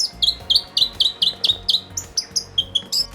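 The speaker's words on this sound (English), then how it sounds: "this robin gives us its very own song as we leave" A Stewart Island robin sings nearby in a bird sanctuary on Ulva Island, New Zealand, giving a steady run of about a dozen bright, sharp chirps in even rhythm, alone with no talk.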